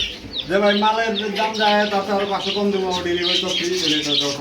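Running pigeons sing a close, continuous run of soft, warbling coos in a loft, loud and near, with faint chirps mixed in.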